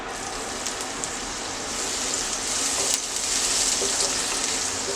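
Chopped onion frying in a spoonful of hot oil over a high gas flame while making tomato paratha stuffing, a steady close sizzle that grows slightly louder and hissier toward the end.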